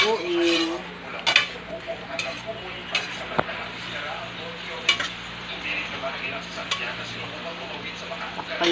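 Chicken curry being stirred in a pot, with repeated metal spoon scrapes and clinks over a soft, steady simmering hiss; a voice is faintly present.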